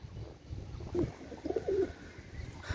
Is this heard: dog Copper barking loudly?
no